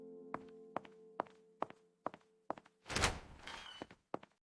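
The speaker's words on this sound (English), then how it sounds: "I open the door." Door being opened, a short sequence of sharp knocks or footstep-like thunks followed by a louder rattling burst and a couple of final thuds, close and clear with no talk.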